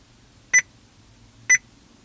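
Two short, clean electronic beeps from a Joying car stereo head unit fitted in an ambulance, spaced about a second apart over a faint low hum.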